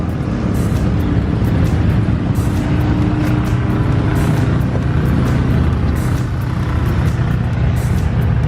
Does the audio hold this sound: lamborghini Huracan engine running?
yes